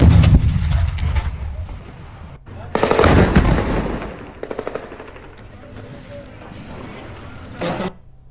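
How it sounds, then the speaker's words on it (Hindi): Gunfire in a war zone during the Israel–Hamas conflict: bursts of rapid shots and booms, loud at first, then scattered, fainter reports, with voices speaking in between. "दूसरी तरफ गोलीबारी भी हो रही है।"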